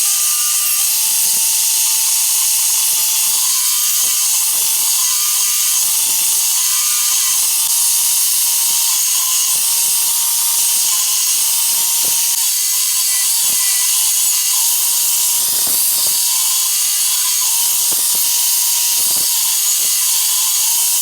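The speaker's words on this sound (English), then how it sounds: "I got all the wood ripped down to 3/4 of an inch" A saw rips wood into 3/4-inch strips, giving a loud, continuous high whine with repeated brief dips in the tone as the blade cuts, close and without talking.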